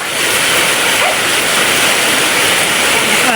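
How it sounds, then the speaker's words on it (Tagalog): Heavy downpour of the first May rain at night, a loud, dense, unbroken hiss close by with no voices over it. "ang lakas ng ulan."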